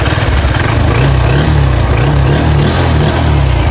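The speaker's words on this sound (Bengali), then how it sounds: "গাড়িটা এখন আমি আপনাদেরকে স্টার্ট দিয়ে দেখানোর চেষ্টা করতেছি" A 2023 Bajaj X Blade motorcycle engine, steady and loud up close, holding a rapid even putter with slight pulsing in pitch as it settles just after starting.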